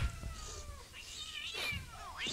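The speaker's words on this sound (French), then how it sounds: "Ce sont des chats." Cats caterwauling and yowling in a film excerpt, with several rising and falling wails layered over low rumbling, loud and close, with no voices.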